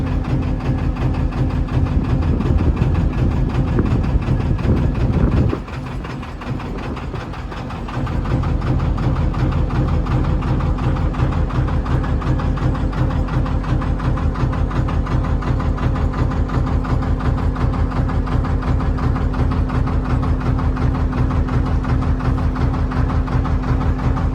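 A canal narrowboat engine runs steadily at idle, a loud, low, even throb with a constant mechanical hum. It dips briefly near the start, then picks up again and holds steady with no talk.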